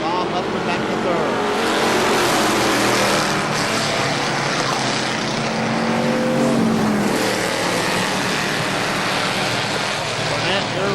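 Race cars roar continuously around KilKare Speedway during the Rex Beddes Memorial, engines loud and dense as cars run side by side down the front stretch, with a track announcer talking over the noise.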